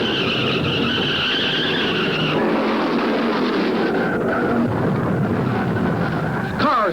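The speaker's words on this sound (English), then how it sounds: "Cars are spinning all over the track." Stock cars skidding and spinning on the track at the 1969 NASCAR Southern 500, loud sustained tire screeches and engine roar blending in crowd and race noise, a sharp squeal rising near the end.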